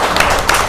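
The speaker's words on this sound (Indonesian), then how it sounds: "Tepuk tangan dong." Audience applause at an Indonesian health talk show on apheresis, a short dense burst of many hands clapping together, steady and fairly loud.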